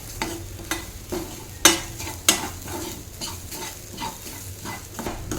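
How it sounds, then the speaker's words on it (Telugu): Grated carrot frying with spiced gram flour in a pan: a constant close sizzle broken by repeated scraping stirs and a couple of sharp metallic spatula clinks. "ఇంకా కొంచెం సేపు ఫ్రై చేయాలి ఇలా ఫ్రై చేసుకోవాలి"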